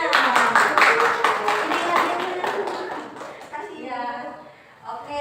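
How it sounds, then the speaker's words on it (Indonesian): Classroom clapping from a group of students fills the opening seconds with dense, rapid claps, tapering off as a voice begins speaking over the fading applause. "Oke, tepuk tangan."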